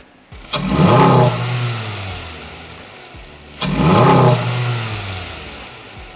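A naturally aspirated 2.0L Honda Civic from the 2022–2025 generation, fitted with a Takeda cold air intake, is revved twice up close: each sharp blip climbs to a loud roar and then slowly settles back to idle.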